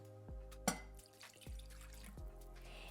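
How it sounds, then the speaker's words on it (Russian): Warm water poured into a mixing bowl of vegetable oil while making dough for a Bulgarian greens pie, a faint trickling splash with a few drips over a low steady background hum. "Туда мы отправляем теплую воду."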